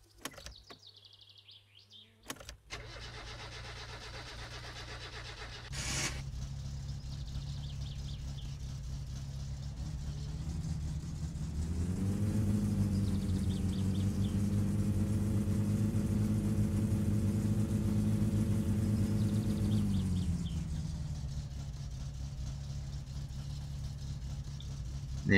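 A car engine idles and then revs up while driving in the video game My Summer Car, a low steady drone that rises to a louder sustained pitch before easing back down, with faint bird chirps early on.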